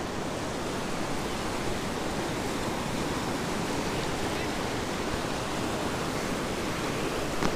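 A dense, constant rush of muddy floodwater after heavy rain roars evenly throughout, loud and broadband, surging past without pause.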